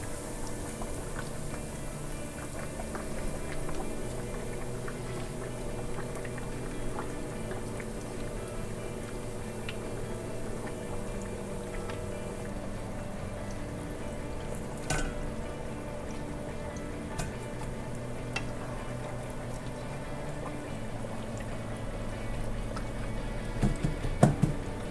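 Pork katsu frying in hot vegetable oil, a continuous low bubbling sizzle held steady and faint, with a brief clatter near the end.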